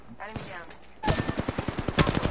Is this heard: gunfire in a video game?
yes